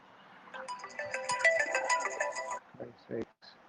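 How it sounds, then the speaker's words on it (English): Phone ringtone chiming during a live call, a melodic electronic tune lasting a couple of seconds at moderate volume, followed by faint voices and a short thump. "Richard, pick up the phone, Richard"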